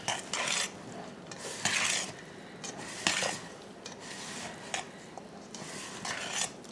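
A spoon stirs creamy, melting cheesy macaroni in a pot, making close, repeated scraping and rubbing strokes in uneven bursts. Quieter, wetter squelches sit between the strokes, with no talking.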